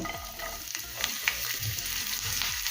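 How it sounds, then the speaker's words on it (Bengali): Chopped garlic frying in hot sunflower oil in a frying pan, a quiet close sizzle with soft crackles and a few stirring scrapes over a short stretch, no talking. "তেল গরম হয়ে গেছে তেলের মধ্যে এখন দেবো কোচানো রসুন"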